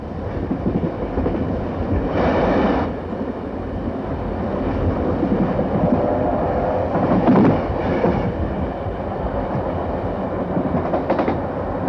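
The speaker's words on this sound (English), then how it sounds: "the first train to steam from the Pacific Ocean to the Indian Ocean set out" A steam train, locomotive 3801, departs and rumbles along steadily with rhythmic clatter of wheels on rails, a few brief bursts of hissing rising above the continuous roar.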